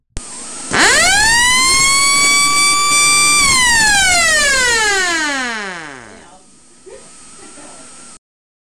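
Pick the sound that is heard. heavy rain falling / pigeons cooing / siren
siren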